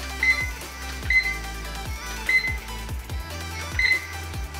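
A wooden LED clock-thermometer alarm clock beeps in short repeated bursts, four loud electronic tones spaced about a second apart over a steady low hum, with no talking.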